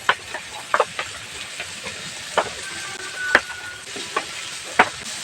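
Boiled potatoes with tomatoes and chopped green chillies stirred in a pan, a soft frying hiss under sparse, distinct utensil scrapes and taps, one sharper clack near the end.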